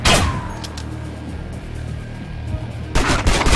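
Rifle gunfire rings out in the game Manhunt, a loud sharp report at the start and another burst near the end, with rolling low rumble and mechanical ambience between them.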